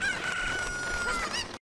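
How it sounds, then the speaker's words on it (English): A rooster crows in The Legend of Zelda: Ocarina of Time, one loud, drawn-out cock-a-doodle-doo with a rising and falling tone. It fills almost two seconds close up and then cuts off abruptly. "Yeah, you can glide on the chickens."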